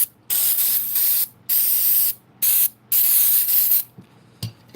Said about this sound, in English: Get some more of this contact cleaner on the board.